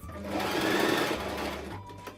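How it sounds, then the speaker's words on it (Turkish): A sewing machine stitches velvet fabric in one close, loud whirring burst of about two seconds, then slows and stops. "kadife esnek bir kumaş olduğu için dikiş esnasında Dikkat etmezseniz çirkin dikiş yapabilirsiniz."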